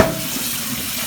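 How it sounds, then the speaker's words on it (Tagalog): Steady running water from a tap splashing over noodles being rinsed in a sink, continuous and close, with no talking. "hugasan po natin siya sa gripo para mahinto po yung pagluto ng"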